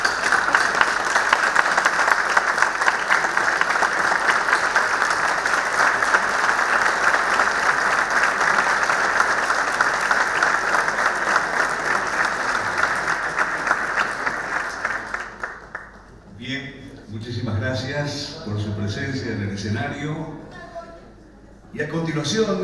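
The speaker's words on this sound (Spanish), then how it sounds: "aplaudimos este momento" A hall audience applauds at an honorary doctorate ceremony for Prof. Dr. Enrique Graue Wiechers during an on-stage photo, with dense, sustained clapping for about fifteen seconds before it fades and a voice begins speaking.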